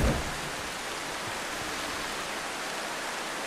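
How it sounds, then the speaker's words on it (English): Steady rain in a train-driving video game, a dense even hiss that fills the whole stretch without a break and with no voices over it. "Ooh, rain. I love rain in games."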